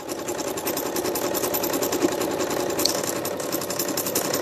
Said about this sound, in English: I thought I would just sew this one first